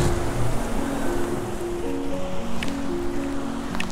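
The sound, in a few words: Malana river flowing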